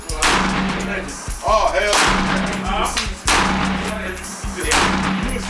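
Loud gunshots from firearms at an outdoor shooting range, heavy booming reports about a second apart with echoing tails, and a brief spoken exclamation between shots.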